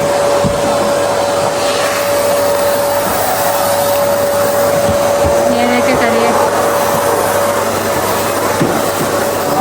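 Vacuum cleaner running during room cleaning gives a loud, unbroken whine and rushing hum throughout, with voices talking over it.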